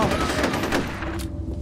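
Dense automatic gunfire from the first-person shooter horror game F.E.A.R., loud and continuous, with overlapping shots and bursts that fade slightly toward the end.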